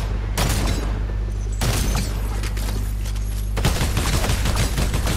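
Gunfire from a weapon in the Fortnite Horde Rush mode rattles in loud rapid bursts, with brief sharp attacks separating dense runs of shots.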